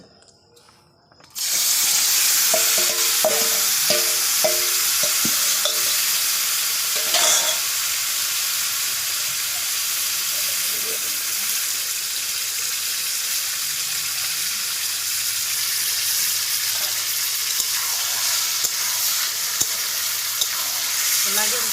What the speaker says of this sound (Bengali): আজকে উনুনে রান্না করবো।